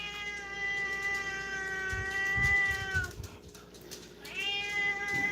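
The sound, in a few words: cat meowing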